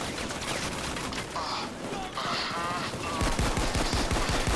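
Rapid minigun fire from a minigun-wielding bulldozer enemy in PAYDAY 2, a dense continuous rattle of automatic gunfire that grows louder and more distinct in the last second, with brief voice-like sounds in the middle.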